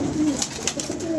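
Pigeons coo in a loft, a soft throaty cooing that rolls on through the brief moment, close and clear.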